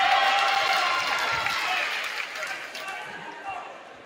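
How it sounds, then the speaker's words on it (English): Student crowd from Solon roaring in a high school gym during a boys and girls basketball game between Mount Vernon and Solon, a dense, loud cheering wash that slowly fades, with commentators talking over it. "listen to that crowd from Solon there"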